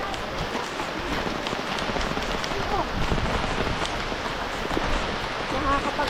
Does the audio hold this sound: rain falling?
yes